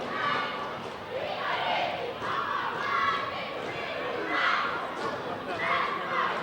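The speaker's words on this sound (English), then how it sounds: "Chilean teams having a cheer contest." Crowds of cheer squads at a varsity high school football game shout and chant in waves, rising and falling across the clip, with many voices blending loudly at mid distance.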